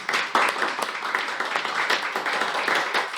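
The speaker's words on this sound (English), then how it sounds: "Let's give a huge round of applause to our impromptu speakers" A modest Toastmasters club audience claps for the impromptu speakers in a steady, fairly loud patter of mixed hands that holds throughout.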